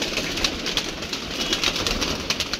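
A pigeon coos steadily and up close, soft throaty calls repeating over a constant background hiss.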